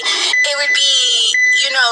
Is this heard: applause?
no